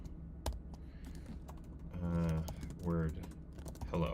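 Computer keyboard typing in an online office-hours session, with scattered key taps that grow denser and louder toward the middle, and some tonal voice-like sounds mixed in.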